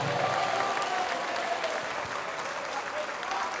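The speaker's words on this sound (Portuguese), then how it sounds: "Vamos aplaudir mais, porque está chegando mais" Church congregation applauding and cheering at a lively worship service, a steady wash of clapping from a large crowd that fills the whole stretch, with voices mixed in beneath it.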